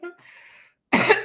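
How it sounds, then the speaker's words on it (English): A single short, harsh throat clearing comes right at the end, loud and close, after a faint murmur during a podcast conversation. "I'm trying to clear my throat"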